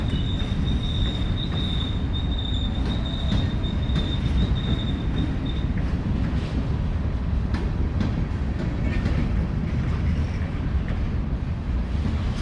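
A CSX freight train rumbles steadily along the tracks on departure, its rolling cars roaring loud and close, with a thin wheel squeal over the first half.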